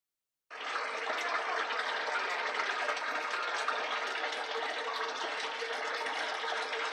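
Water gushes out of a fish tank as it is dumped, starting abruptly and pouring in a steady, even rush for the rest of the clip.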